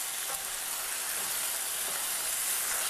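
Steady loud sizzling and crackling of marinated chicken with ginger stir-frying in a hot pan, continuous without pauses, no voices.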